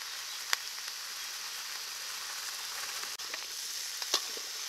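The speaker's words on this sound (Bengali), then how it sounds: "এখন ভালো করে ভেজে নেব।" A Katla fish head with turmeric powder and salt fries in a pan, giving a steady, fairly quiet sizzle with a few sharp crackles and pops scattered over it and no voices.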